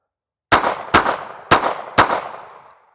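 Four loud gunshots fired at targets, spaced roughly half a second apart, each a sharp crack followed by a long ringing echo that fades away after the last shot.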